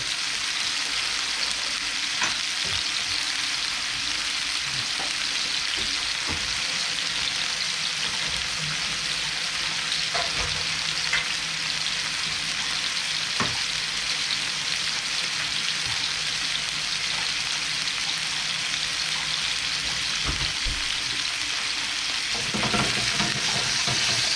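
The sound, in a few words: breast frying and sizzling in a pan, fat rendering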